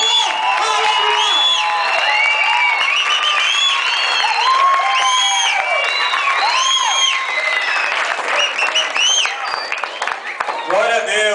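A church congregation bursts into loud applause mixed with cheering, whoops and shouted voices, a dense, sustained roar of clapping and exclamations that eases slightly toward the end.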